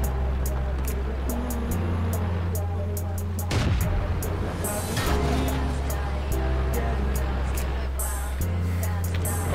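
Tank cannon fire and engine rumble in World of Tanks, with a steady low engine drone, a heavy blast near the middle and sharp impact hits scattered throughout, all continuous and loud.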